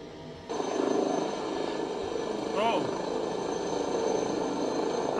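Airbus H160 helicopter taxiing on the ground in a flight simulator, a steady rotor and turbine roar that starts abruptly and holds loud and even, with a brief swooping whine partway through.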